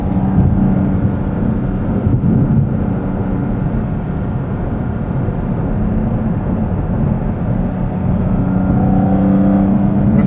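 A 2023 Porsche 718 Cayman GT4 RS engine pulls hard at high revs, a loud, sustained mechanical drone heard up close from inside the car, holding steady for about ten seconds.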